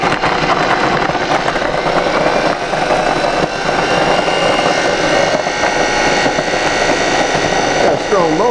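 A strong kitchen appliance motor crushes graham crackers for a strawberry dessert, giving a loud, steady, dense whir with grinding texture throughout, then a brief wavering change near the end.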